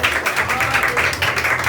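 A church congregation claps for Jesus during a communion service, a steady dense patter of many hands applauding together at close range, filling the room without speech.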